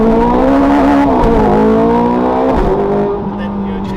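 Ferrari 430 Scuderia engine pulling hard under full throttle, loud and close, its rising pitch climbing through gear changes with brief dips between shifts before settling, heard from inside the car.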